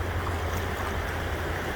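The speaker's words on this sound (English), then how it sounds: "So yeah, river's swollen, bank to bank, moving excessive speed, very, very quick" Swollen Yakima River running bank to bank at high volume and speed into the trees, a steady broadband rush with low rumble, constant and fairly loud throughout with no voices.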